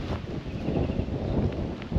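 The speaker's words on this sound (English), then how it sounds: "I should apologise for the wind noise." Strong outdoor wind buffeting a microphone in a farm field, a steady low rumbling roar with gusty swells, no speech.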